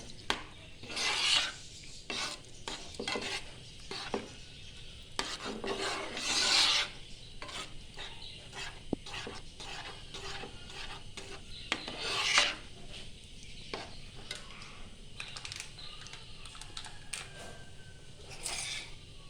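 Rava payasam with sago being stirred in a pot, a spoon rasping and scraping against the pot in uneven bursts, some strokes louder and close, with no talk.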